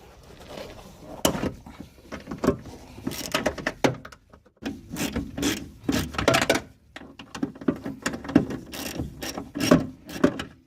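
Rapid ratchet clicking in repeated bursts as 12mm fasteners are loosened and removed during shock and lowering spring installation on an Infiniti G20, close and fairly loud with brief pauses between runs.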